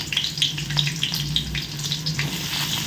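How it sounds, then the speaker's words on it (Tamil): Steady crackling sizzle of finely chopped onions, green chillies and curry leaves frying in hot oil, close and continuous, with bursts of popping throughout and no voices. "பொரியட்டும் பாருங்க இந்த மாதிரி பொரியும் போது"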